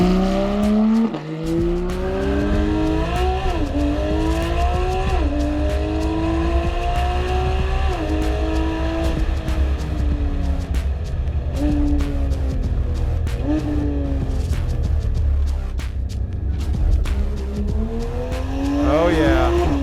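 A Porsche 911 GT3 RS race car driven hard on the track at Thermal Club, its engine loud and close, rising and falling in pitch through repeated gear changes with a continuous roar throughout.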